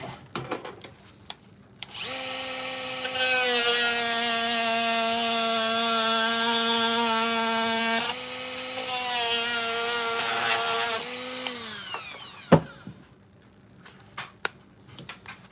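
A small power cutting tool trims a foam piece built up on the sides of a case for a scratch-built Fallout Pipboy, a loud steady whine running for several seconds, briefly dropping, then resuming before winding down with a clack.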